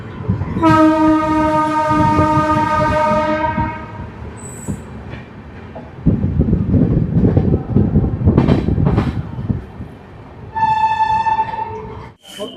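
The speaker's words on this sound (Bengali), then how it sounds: "তো অবশেষে এসে পৌঁছে গেলাম দুর্গাপুর স্টেশনে তো ট্রেন আমাদের তিন নম্বর প্ল্যাটফর্মে নামালো" A train pulls into platform three at Durgapur station in West Bengal. A loud, sustained horn blasts near the start, then rumbling wheels and clattering carriages follow, and a second horn sounds toward the end.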